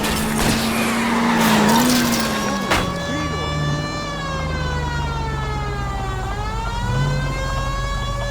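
A car in the L.A. Noire video game skids as it gets spun out, a long loud tire squeal sweeping and wavering over steady engine roar, with speech briefly heard at the start.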